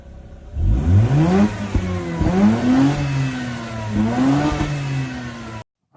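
A real Mazda RX-8 rotary engine revs up close in several rising sweeps, climbing, dropping back and climbing again with a buzzy, smooth whine, then cuts off abruptly near the end.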